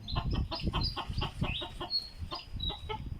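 A chicken clucks repeatedly in short, choppy bursts, fairly close, with a few higher squawks mixed in and no talking.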